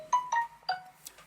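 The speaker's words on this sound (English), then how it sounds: "I apologize. That was my phone." A mobile phone ringtone chimes indoors, three short melodic tones in a quick rising pattern, each fading into the next, moderately loud and close with no one talking over it.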